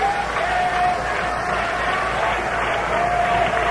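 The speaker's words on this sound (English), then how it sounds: "The fans begin to clap it up." Baseball fans in the stands at a 1968 Red Sox versus Senators game clap together, a steady, distant wash of crowd noise heard through an old radio broadcast with a faint whistle tone.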